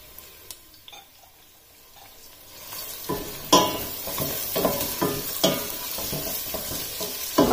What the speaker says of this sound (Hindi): प्याज को और काजू को इसमें लाइट गोल्डन ब्राउन कलर आने तक फ्राई होने देना है।